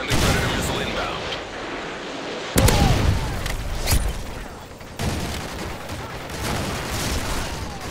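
Heavy explosions and gunfire in Call of Duty: Modern Warfare 3, with a sharp blast near the middle over continuous rumbling combat noise and scattered shots, loud and sustained throughout.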